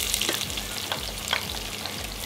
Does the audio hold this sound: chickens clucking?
no